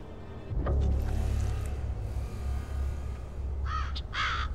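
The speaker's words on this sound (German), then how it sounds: "auf dem ein Rabe sitzt" A raven sitting on driftwood in a river in the video game Black Mirror 3 gives a few hoarse caws near the end, over a continuous low rumble of flowing water.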